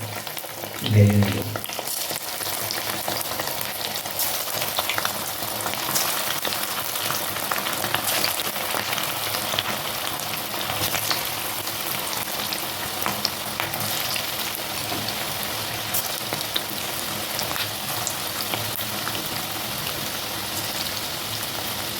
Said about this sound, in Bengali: এইভাবে তেলের মধ্যে ছাড়বে ছোটো ছোটো বড়ের আকারে